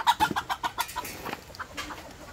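Chickens cluck in short, quick bursts close by on a small farm, a rapid choppy series of hen calls with soft farmyard background and no talking.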